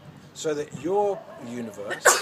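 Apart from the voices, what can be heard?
sneeze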